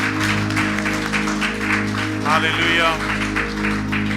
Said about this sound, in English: Let's give him a clap offering this morning.